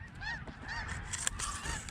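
Geese call in a steady chorus of overlapping honks as a flock passes high above a duck hunting marsh in Yolo, distant but clear, with no one speaking.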